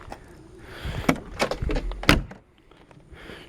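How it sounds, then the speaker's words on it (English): A 1961 Morris Mini MK1 car door being opened and shut, giving a few close, sharp latch clicks and solid thunks in quick succession with no talking. "doors open and shut nicely"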